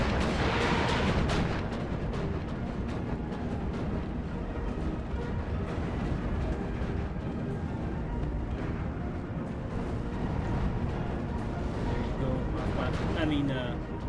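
Gunfire and artillery in the Steel Division II wargame form a dense, continuous rumble of battle noise, steady and loud throughout, with someone talking over it.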